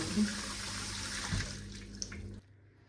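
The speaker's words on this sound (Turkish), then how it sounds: "Ellerimi yıkayayım" Running tap water splashes as hands are washed in a home kitchen, a steady moderate stream that cuts off abruptly near the end.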